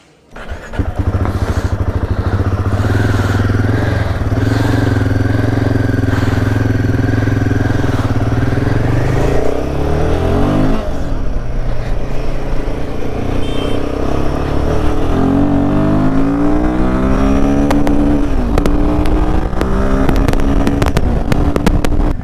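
Royal Enfield Himalayan 450 engine and exhaust while riding, a loud continuous drone that shifts pitch as the bike changes speed, with a rising rev around the middle and wind buffeting throughout.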